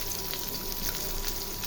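Fish frying in a pan, a steady dense crackling sizzle that holds evenly throughout with faint spattering pops and no talk.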